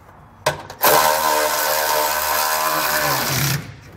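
A power tool runs in one sustained burst of about three seconds, loud and close, as it tightens a heat shield under the bed of a 2021 Ford F-250 Super Duty while a fifth wheel hitch is installed.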